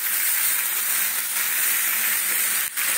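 Sesame and poppy seeds fry in a pan, a steady bright sizzling hiss held close and continuous for a few seconds, with no talking.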